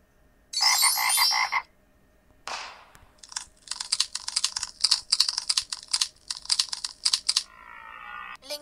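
A frog croaks from a children's animal-learning game: a short, buzzy call up close, a quick swoosh, then a long, rattling series of rapid clicking croaks, clear and alone.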